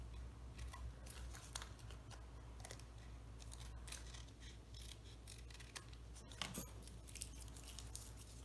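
Scissors trimming paper emoji gift tags, a series of quiet crisp snips at irregular intervals over a faint background hum, close and soft.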